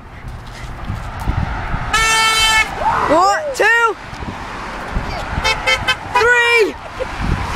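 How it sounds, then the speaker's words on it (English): Passing vehicles on a road sound their horns in two bursts, loud, close honks that rise and fall in pitch, while excited voices count and shout around them. "honk, honk."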